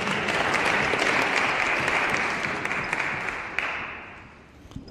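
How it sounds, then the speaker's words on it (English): An audience at a peace-themed evening of music and spoken words claps and cheers loudly in a dense, sustained burst, tapering slightly toward the end. "Let's cheer while we still can."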